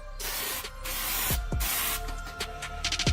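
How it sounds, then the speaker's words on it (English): Spray can hissing out a light coat of paint in a cramped space, a steady near hiss broken by short pauses and clicks, ending in a few quick sputtering bursts. "Now I don't have much room here to spray."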